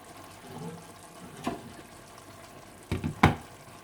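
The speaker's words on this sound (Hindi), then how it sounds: "चावलों में 2 कनी रखने के बाद आप इसका पानी ड्रेन कर दें।" Water drains off parboiled rice in a kitchen, with soft trickling and splashing, a short slosh near the middle and two sharper splashes near the end, all fairly quiet and with no voices.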